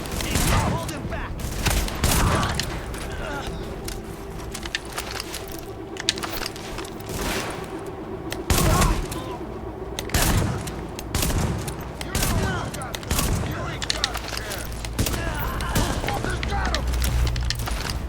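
Dense gunfire from the video game The Division, with overlapping bursts of automatic fire and sharp booming shots going nearly nonstop, loud and close, while game voices shout over the battle.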